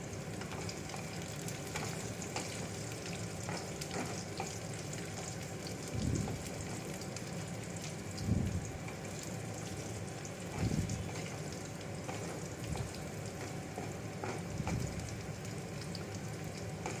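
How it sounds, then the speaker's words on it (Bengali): Peanuts frying with onions in a pan: a soft, even sizzle running throughout, with occasional low stirring thumps every couple of seconds, fairly quiet and without talk. "এর মধ্যে আমি দিয়ে দেবো বাদামটা দিয়ে একটু ভাজা ভাজা করে নেব"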